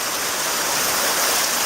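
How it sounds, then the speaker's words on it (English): A small waterfall in a cave stream pours continuously, a steady close hiss and rush of falling water that fills the space with no voices. "The stream that I followed has a waterfall right there"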